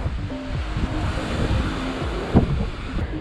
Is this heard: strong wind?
yes